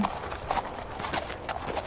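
Video game deer hooves clop in a quick irregular walking rhythm, several soft steps in a row, fairly close and moderately quiet.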